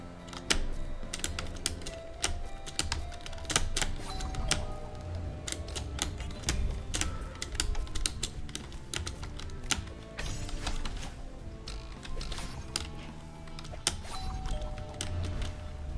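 Dense, fast mechanical keyboard clatter of someone playing the platform game Celeste, a steady run of sharp overlapping key clicks continuing for the whole stretch, close and fairly loud with no talking.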